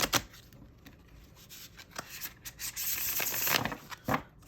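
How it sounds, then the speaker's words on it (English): A tarot card deck being riffle shuffled by hand, with a few short crisp snaps and a longer rippling burr of cards interleaving, close and fairly quiet, with no talking. "So I'm gonna just put in a riffle shuffle here."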